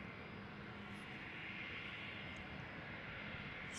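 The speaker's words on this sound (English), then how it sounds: "This is a NetJets Embraer Phenom 300, 4 years old, first flight January 2019." A NetJets Embraer Phenom 300 business jet departs Amsterdam Schiphol Airport, its engines a faint, steady, distant roar that holds even and unbroken for a few seconds.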